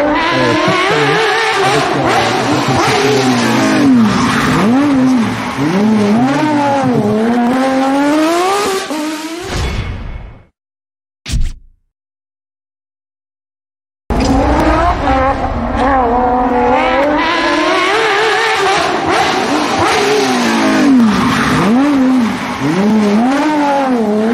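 At the Rallye le Touquet Pas de Calais, a rally car on Michelin tyres revs hard with rising and falling engine notes, loud and close, cutting out briefly before the revving returns.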